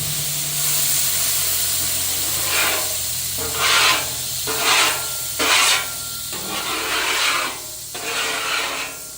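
A spatula scraping across a Blackstone griddle while steaks cook, several loud harsh rasping strokes in an uneven rhythm over a constant sizzling hiss.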